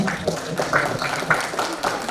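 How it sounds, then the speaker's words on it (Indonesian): An audience at an employer meeting and career event claps together, a moderately loud, uneven patter of applause that swells in short bursts over a couple of seconds. "Jadi tepuk tangan untuk Bapak Ibu semua"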